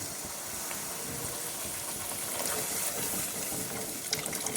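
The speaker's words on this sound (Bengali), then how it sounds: "এবার দেখো উষ্ণ গরম জল আমি দিয়ে দিচ্ছি একটু" Warm water is poured into a pan of pabda fish curry, a steady hissing, splashing flow that continues unbroken for the whole stretch at moderate, close level.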